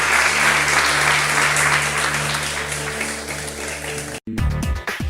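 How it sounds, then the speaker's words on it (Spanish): A church congregation applauds, a steady broad wash of clapping over a low sustained organ or keyboard drone, cutting off abruptly near the end before brief louder sounds resume. "Dele un aplauso al Señor."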